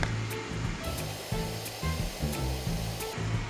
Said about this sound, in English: I like to use spray avocado oil